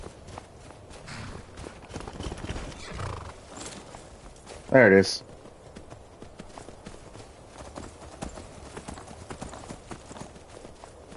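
Horse hooves clip-clopping on the ground in the Skyrim video game, a steady run of soft hoofbeats with a brief loud whinny near the middle, while someone talks briefly over the scene.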